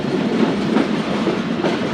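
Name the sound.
passenger train running on rails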